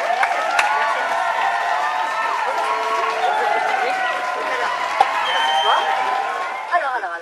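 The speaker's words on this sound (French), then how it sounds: "notre invité, sous un tonnerre d'applaudissements." Thunderous applause and crowd noise for a guest being welcomed onto a stage, a dense steady roar of clapping and voices that holds for several seconds, with a few sharp accents.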